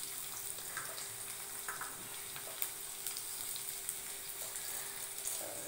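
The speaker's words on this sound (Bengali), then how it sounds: "এখানে আমি পেঁয়াজ দিয়ে দিয়েছি, ভাজা হচ্ছে, তোমরা দেখো।" Onions frying in a pan for a tarka dish, a quiet, steady sizzle with occasional soft crackles and spatters, heard alone without talk.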